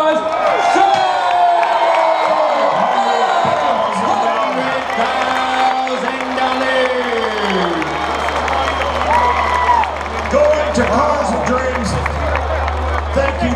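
A car auction crowd at Barrett-Jackson Scottsdale cheers, whoops and applauds loudly after a sale, a dense, roaring mix of clapping and shouting with raised voices calling out over it throughout.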